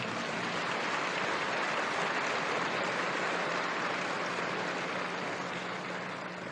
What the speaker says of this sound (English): Give them a lot of applause,